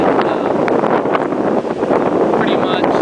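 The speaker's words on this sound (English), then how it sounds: "it's just starting to get a little windy out here" Wind buffets the microphone at a beach with big surf ahead of Tropical Storm Hanna, a loud, steady roar with gusty rumble that continues through the whole stretch.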